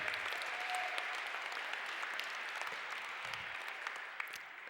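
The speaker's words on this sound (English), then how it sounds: "A big round of applause for Mr. Jim Sollars" A crowd at a college sports hall of fame induction held during a Centralia College women's basketball event applauds steadily, a dense wash of clapping that holds at an even level throughout with no voices over it.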